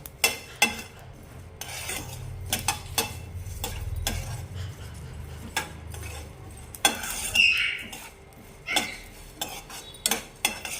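Coriander seeds dry-roast in a pan with no oil, heard as repeated scraping and rattling strokes of a spoon against the metal, with a soft low rumble beneath and no voices.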